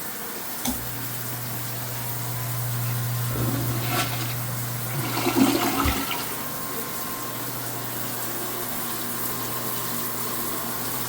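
Water rinsing a cleared sewage spill down a household drain, a steady hissing wash with a low pump-like hum running throughout, growing slightly busier in the middle.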